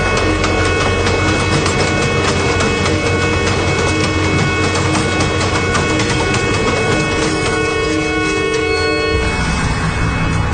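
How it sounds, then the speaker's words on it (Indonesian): A train rolls past a crossing in a radio drama sound effect, a loud, continuous rumble of wheels and wagons with steady tonal horn-like hums running throughout, fading slightly near the end. "Setelah kereta api sudah melintas, kulihat kendaraan pun mulai berjalan lagi."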